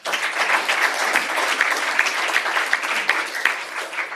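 An audience at a Yakima School District board meeting gives sustained applause for student athletes, a dense, even clatter of many hands clapping with no voices on top.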